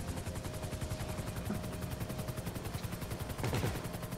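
Rapid automatic gunfire in a GTA V Online heist, a dense, continuous stream of shots running at a steady rhythm, moderately distant and fairly quiet, with a heavier burst near the end.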